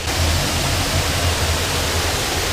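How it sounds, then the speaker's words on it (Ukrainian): A steady, loud rush of falling water from a man-made waterfall built for a hydroelectric plant at the start of Buky Canyon on the Hirskyi Tikych River, Ukraine, constant and unbroken throughout. "Починається цей каньйон ось із такого штучного водоспаду."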